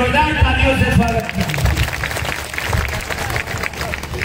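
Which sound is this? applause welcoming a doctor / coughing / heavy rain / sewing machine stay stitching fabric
applause welcoming a doctor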